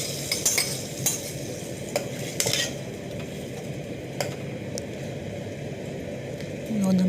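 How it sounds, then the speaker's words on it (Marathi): Masala paste gets stirred into hot garlic-infused oil in a pan, a low bubbling sizzle beneath scattered scrapes and clinks of a spoon against metal, with a soft voice briefly present. "आता ही लसूण टाकलेली तेल गरम झाल्यानंतर चेचून ढवळायची आणि त्यात आपण जो मसाला तयार केला तो मसाला म्हणजे वाटण घालायचं."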